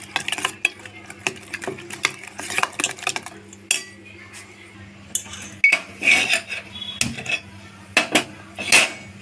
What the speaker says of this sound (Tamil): கொஞ்சமாக மிளகுத்தூள் சேர்த்துக்கலாம். நல்லா கலந்து விட்டுக்கலாம்.